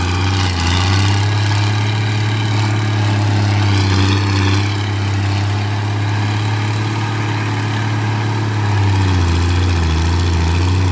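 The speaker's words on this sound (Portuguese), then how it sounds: "Trator bonito o ronco dele, hein?" A Valtra 1280E tractor engine runs at a steady, loud idle with a deep continuous drone and a faint rise and fall in pitch, heard up close with no talk.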